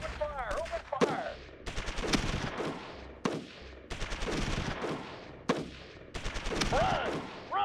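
Gunfire during a bombardment in the strategy game Shadow Empire: repeated loud bursts of crackling shots and heavy booms in uneven volleys, layered with sweeping whistles and a dense battle din.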